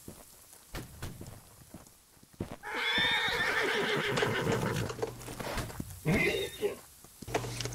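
A horse whinnies loudly for several seconds in the video game Holdfast, a second shorter neigh following, amid game noise and brief speech before and after.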